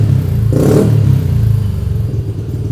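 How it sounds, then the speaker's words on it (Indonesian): A motorcycle fitted with a DX Generation aftermarket exhaust, run without a dB killer, revs once in a short throttle blip over a steady loud idle, close to the microphone. "Ini suaranya kalau digas."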